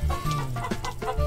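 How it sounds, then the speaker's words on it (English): A chicken in an indie video game clucks repeatedly in short, loud bursts over a steady low game-music drone. "Come here, you stupid chicken."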